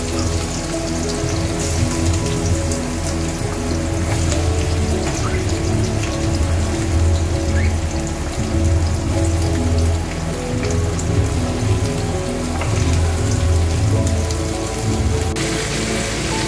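Bitter gourd frying with ghee in hot mustard oil in a kadai gives a steady, dense sizzle close by, a rain-like crackling hiss that holds evenly for the whole stretch without talk.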